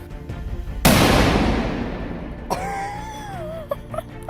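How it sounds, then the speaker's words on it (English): A firecracker, M150 or M80, goes off with one sharp, loud blast that decays over a second or two, followed by a high whistling squeal and a few smaller pops. "I will show you a video I found that compares the humble M150 to the legendary 180."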